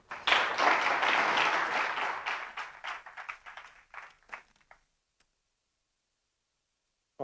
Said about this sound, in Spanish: un aplauso para él y muchas gracias